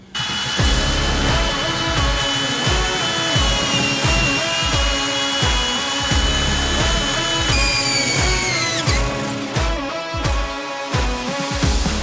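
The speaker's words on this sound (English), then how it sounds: "Then I'll tighten down those bolts on the bolt on the center hanger and torque that as well." Power tool rapidly driving bolts on an RV's slipper spring center hanger during a RoadMaster slipper spring install, a loud continuous whirring with repeated rhythmic impact bursts throughout.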